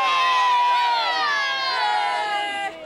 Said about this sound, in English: The fourth biggest crowd ever in the conference turned out to see the U's beat Aldershot.